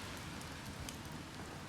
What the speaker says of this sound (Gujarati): વરસાદની સિઝન છે તો વરસાદ પડશે